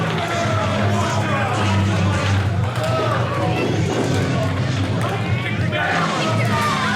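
A wrestling event crowd roars and cheers steadily for Busta and Cole, a dense continuous wash of noise under a commentator's voice.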